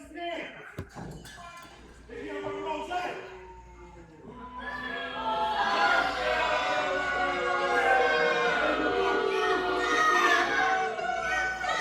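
A wrestling crowd at a live event reacts to Rozay St. James in the ring, its noise swelling into a loud, sustained roar under commentators talking over it.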